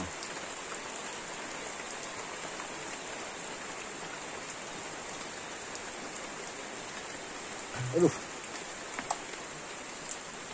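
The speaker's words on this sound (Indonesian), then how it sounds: "nah, lagi hujan nih." Steady rain patters on a surface in a remote village in West Java, Indonesia, a dense even hiss of drops with a few louder knocks near the end and no voices.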